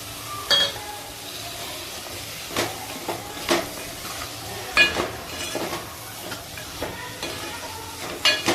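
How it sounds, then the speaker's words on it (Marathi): Bombay duck sizzles as it fries in a pan of black masala, with intermittent scraping and clinks of a spoon stirring. "त्यानंतर स्वच्छ धुतलेले बोंबील टाकते"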